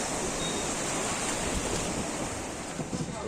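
Sea waves wash onto the beach at Digha with a steady, broad roar of surf and some wind buffeting the microphone, continuous throughout with no voices.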